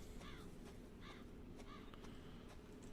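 Crows caw in a quiet outdoor scene in the Resident Evil 7 video game, a few short, faint calls spaced about half a second apart over a low background rumble.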